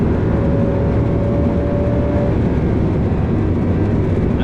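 A 1230 hp MTM Audi R8 with a twin-turbo V10, driven on the Nürburgring track below full throttle: a loud, constant low engine roar with heavy rumble and wind noise, heard close up inside the car.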